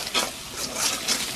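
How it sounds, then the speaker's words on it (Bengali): Spices with a little water being stirred in a pan, a short burst of scraping stir strokes with a soft sizzle beneath, near and fairly loud. "এবার ভালো করে কষিয়ে নিব।"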